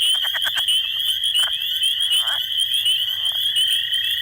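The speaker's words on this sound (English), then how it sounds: "There's a leopard frog." A leopard frog calls within an outdoor frog chorus in a field recording. Low, rapid snoring croaks pulse in short bursts over a constant high, shrill trill from other frogs.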